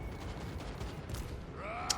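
Cannon fire from a Total War: Warhammer 3 battle booms in the distance amid continuous battlefield rumble and clatter, with a sharp crack near the end.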